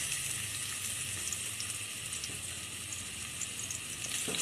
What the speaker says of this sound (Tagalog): Magigisa na po tayo. Favorite ko talaga to yung pusit.